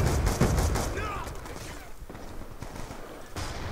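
Call of Duty Black Ops 2 gunfire comes in quick bursts of sharp shots, dense at the start and then tapering into scattered reports, mixed with game noise and a voice talking over it.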